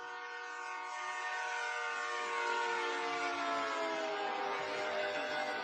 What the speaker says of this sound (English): we can move past the train, we can scan past the train, and it can be stuck on the ground. We'll still hear the Doppler shift